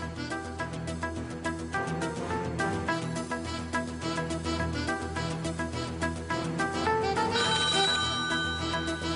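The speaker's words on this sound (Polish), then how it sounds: "Czy ja słyszałam telefon?" Telephone ringing in a game-show studio with music, a repeated bright electronic ring alone at moderate volume, continuing for several seconds.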